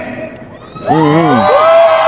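A large street protest crowd erupts into loud, rising shouts and cheers that swell and hold, close and dense.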